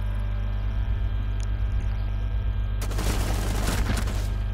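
Burst of rapid gunfire from the tactical shooter game Rainbow Six Siege, arriving suddenly after a steady low hum and rattling loudly for under two seconds near the end.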